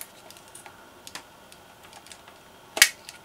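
Plastic connectors being pulled free inside the back cover of a Dyson DC35 vacuum motor during disassembly: faint scattered clicks and ticks, then one sharp, louder snap near the end, close up with no talking.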